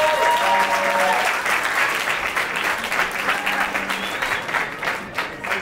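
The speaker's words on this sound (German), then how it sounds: "Applaus für den jungen Mann" An audience at a rap contest applauds a finalist, loud continuous clapping that slowly thins out toward the end.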